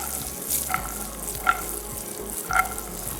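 Nuts roasting in a pan, giving a steady low frying hiss with a few brief clinks or scrapes spaced about a second apart, close and fairly loud, with no voices.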